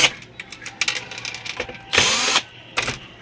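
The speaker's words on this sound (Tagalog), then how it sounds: "Tanggalin natin yung mga screw dito sa gilid" Screws being unscrewed from the side of a TV's front cover during a no-power repair: a few short mechanical whirs and clicks, with one longer burst of driver noise near the middle and a brief one near the end.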